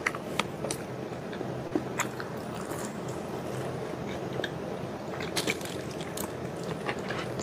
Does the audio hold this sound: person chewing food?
yes